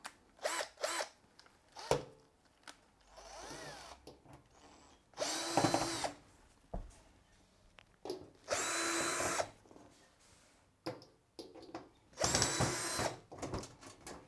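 Cordless power drill backing out screws from the rear panel of an LG washing machine, several separate whirring bursts of a few seconds each with quiet handling pauses between them, close and fairly loud.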